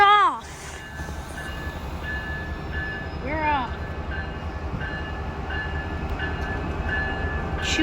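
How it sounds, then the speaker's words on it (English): An Amtrak train rolls away at a station, with a steady loud rumble of railcars and a few short horn blasts at the start and again midway, and people speak briefly nearby. "Choo-choo's going bye-bye now."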